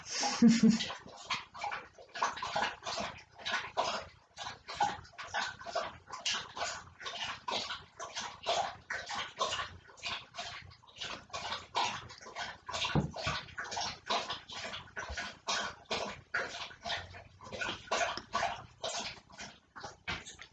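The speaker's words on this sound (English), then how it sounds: "my dog has just drunk a whole bowl of water nearly" A thirsty dog laps steadily from a full bowl of water, producing a fast, continuous run of wet lapping splashes up close over about twenty seconds.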